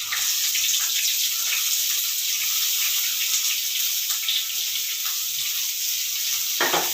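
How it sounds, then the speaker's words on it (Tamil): Sliced onions fry in hot oil after garlic in a pan, a loud, continuous close sizzle that stays even throughout, ending with a brief stir. "வெங்காயத்தை போட்டு கொஞ்சம் நல்லா வதக்கிக்கலாம்"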